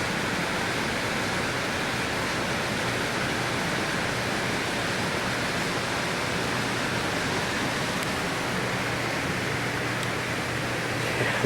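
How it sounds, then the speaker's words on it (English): Loud air handlers ventilating a room inside an older campus learning resource center produce a steady, broadband rush of moving air with a low hum, constant and unbroken throughout with no talking. "this room has some serious air handlers. Having to speak over the sound of the air"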